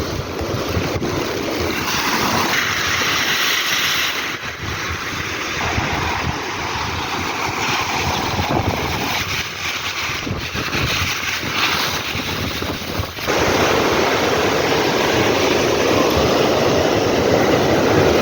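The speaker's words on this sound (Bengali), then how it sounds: "কীভাবে উত্তাল হয়েছে সমুদ্র বন্ধুরা আপনারা দেখতে পাচ্ছেন।" Rough sea waves pounding an island shore in stormy weather, a loud continuous roar and wash of surf with wind noise throughout, no talking.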